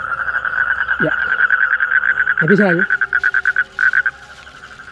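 Frogs at a pond croak in a dense, steady pulsing chorus, loud and close, with brief human voices speaking over it.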